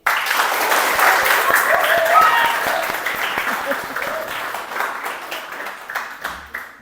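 Sustained audience applause fills a school event hall at the Armenian Catholic Holy Cross school, many hands clapping steadily at a close-to-mid distance, slowly thinning toward the end.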